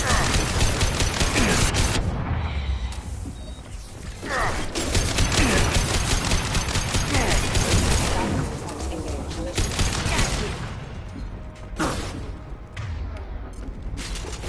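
Dense, sustained gunfire from a sci-fi shooter game, Mass Effect 2, rattling continuously in heavy bursts with mechanical clatter and brief lulls, loud and close throughout.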